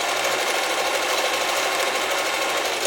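A German-made Singer 720 sewing machine running a zigzag stitch, a loud, constant, buzzing motor hum with fast needle chatter, close and uninterrupted for a few seconds.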